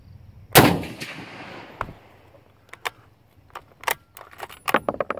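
A loud, sharp crack from a 1903 sporter rifle rings out outdoors and decays over about a second, followed by lighter metallic clicks and clatter.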